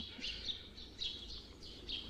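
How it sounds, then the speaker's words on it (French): Small birds chirp outdoors in a quiet setting, with a faint, repeated series of short, high tweets in a steady rhythm over a low background hum. "Ils commencent à me taper sur le système, ces oiseaux."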